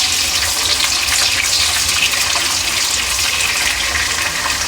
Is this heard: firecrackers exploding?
no